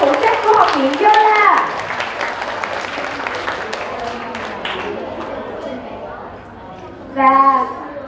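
A school audience applauds a guest teacher at the opening of a spelling bee contest. Steady crowd clapping runs under cheering and an amplified voice, fading toward the end.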